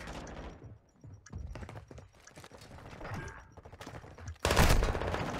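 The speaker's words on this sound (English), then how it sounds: "I was shooting before he even turned the corner" Gunfire rings out in a Call of Duty match as rapid shots crack between pauses, ending with a loud, sustained burst near the close; no one speaks during it.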